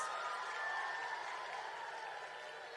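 Sustained applause from the audience at St. Jude's Public School & Junior College's 46th annual day, a steady, fairly faint wash of clapping that holds evenly throughout.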